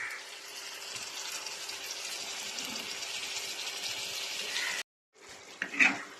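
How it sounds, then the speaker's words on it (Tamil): Ginger garlic paste for a prawn gravy sizzles steadily in a hot pan, a continuous hiss that cuts out briefly near the end before a short burst of stirring clatter. "இப்போ நம்ம அரைச்சி வச்சிருக்க இஞ்சி பூண்டு பேஸ்ட போட்டுக்கலாம்"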